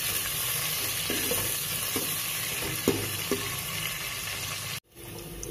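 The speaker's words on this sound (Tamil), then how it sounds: "பச்சை மிளகாய், கருவேப்பிலை எல்லாம் நல்லா வதக்கி விடுங்க." Green chillies and curry leaves sauté in a pan for tomato kuzhambu, a continuous loud sizzle with a few light scrapes of stirring. The sound drops out abruptly near the end and then returns.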